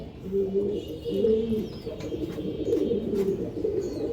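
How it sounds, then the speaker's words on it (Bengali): Breeder pigeons at a loft coo repeatedly in low throaty bursts, several overlapping calls up close, with faint background noise. "এই দেখেন কবুতরটা দেখেন মাশাআল্লাহ, খুবই অ্যাক্টিভ কবুতর"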